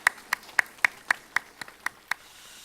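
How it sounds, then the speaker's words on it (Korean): A church congregation claps during a Sunday worship service, about nine sharp, evenly spaced claps at a steady rhythm, close and fairly loud, with no talking. "고마운 마음 우리 박수로 보답하겠습니다."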